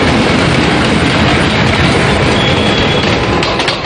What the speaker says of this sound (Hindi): र से रेलगाड़ी,